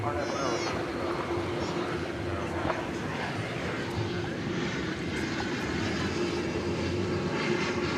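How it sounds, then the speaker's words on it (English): A Singapore Airlines cargo Boeing 747 approaches DFW Airport as a steady low, distant engine rumble, with faint talk over it. "as we now see the Singapore Airlines cargo 747 making its way in our direction."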